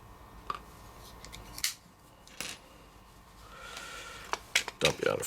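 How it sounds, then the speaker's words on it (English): Scissors snipping pieces of heat shrink tubing, a few sharp isolated cuts close by, with a small clatter and a quick cluster of snips at the end. "Cut you a piece of tubing, or actually the heat shrink tubing."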